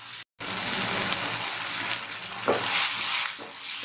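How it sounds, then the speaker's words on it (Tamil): Onions and tomatoes sauté in a pan as the base for goat trotter paya. A loud, close, steady sizzle fills the moment, with occasional stirring scrapes and one brief cut-out near the start. "இது கூட நம்ம இப்ப தக்காளி சேர்த்துக்கலாம் இத நல்லா வதக்கிடுங்க"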